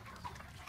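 Chickens clucking on a Philippine poultry farm, a soft, low jumble of fowl calls with one slightly louder note, quiet and steady over a short stretch.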